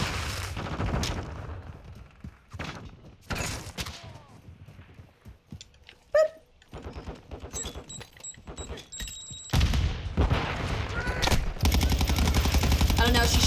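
Gunfire in a Call of Duty match, rapid automatic bursts and single shots going off near and far, with quieter stretches, electronic beeps and someone talking in between.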